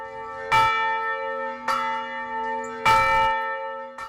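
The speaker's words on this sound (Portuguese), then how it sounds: "em todas as igrejas da região metropolitana, os sinos badalaram em favor do meio ambiente" A church bell in the metropolitan region rings out in three strong, evenly spaced strokes, each leaving a long humming ring that carries into the next, loud and close with no voices.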